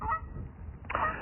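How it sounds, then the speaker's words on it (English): Geese give a few loud, close honks in quick succession, a short burst of harsh calls from birds chasing someone outdoors. "the geese are chasing me"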